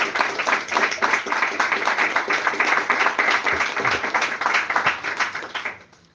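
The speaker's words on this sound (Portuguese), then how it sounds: "pode aplaudir." A church congregation at a midweek service claps loudly and close, quick rhythmic hand claps that hold steady for several seconds before fading out quickly at the end.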